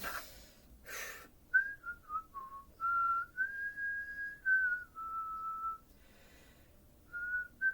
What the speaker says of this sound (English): Did you whistle to calm yourself down?